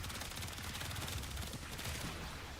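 Rapid automatic gunfire from twin submachine guns or pistols in the Warframe video game, a dense continuous rattle of shots that stays steady and fairly faint throughout.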